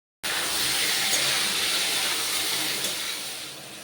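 Mourala fish rubbed with salt and turmeric sizzles in hot oil in a kadai, a steady close hiss that starts abruptly and holds evenly before easing slightly at the end.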